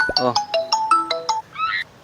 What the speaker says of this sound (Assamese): ফোন আহিছে আপোনাৰ